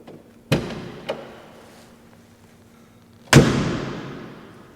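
Door of a classic Mercedes 280 SL handled nearby: two light latch clicks, then after a pause a heavy, close slam that rings and decays, with no voices.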